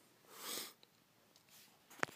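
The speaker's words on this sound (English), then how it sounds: "Sorry for all the sniffling and everything, but I have a cold right now." A person with a cold sniffles, with a few quiet, close breathy sniffs and snorts spread over a couple of seconds in a near-silent room.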